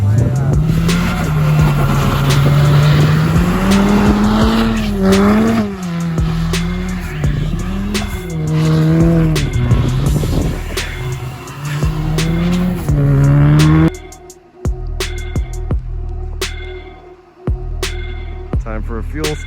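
A car drifts through a snowstorm, its engine revving and wailing in rising and falling sweeps while tires squeal and skid, loud and close, before the revs drop off near the end; faint voices come through now and then.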